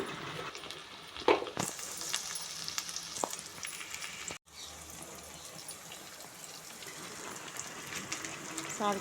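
Onions with turmeric and salt fry in a pan, a soft continuous sizzle with occasional clinks and stirring knocks, fairly quiet and close.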